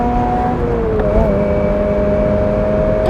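A 2022 Toyota GR86 engine held above 5,000 RPM in race mode, a loud, steady close-up rev with a sustained whirring tone that dips and recovers briefly partway through.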